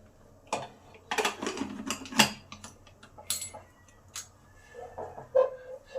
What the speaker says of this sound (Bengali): প্রেসারের ক্লিপটাকে ভালো করে এঁটে দিতে হবে।